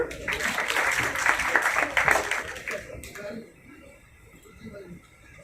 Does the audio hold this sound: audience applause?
yes